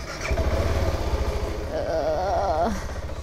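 A motorcycle rides on a flat tire along a roadside in El Salvador, its engine rumbling close and steady, with a brief rising whine near the end.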